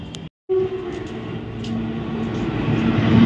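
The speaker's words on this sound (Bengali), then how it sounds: "ট্রেন ঢুকে গেছে বর্ধমান লোকাল স্টেশন" A Bardhaman local train pulls into a station, a loud, close rumble of wheels and carriages with a steady low drone that builds gradually after a brief cut near the start.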